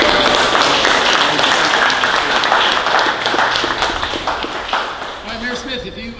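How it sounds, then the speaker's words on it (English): A crowd at a community board meeting in Canyon applauds the fire department, dense sustained clapping that tapers off near the end while voices talk over it. "Give them a round of applause."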